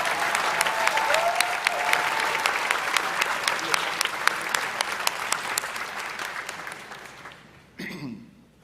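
Sustained applause from a large audience at a UCLA theater, film and television commencement, steady dense clapping for about seven seconds before it drops off, a brief muffled rumble and voice at the end.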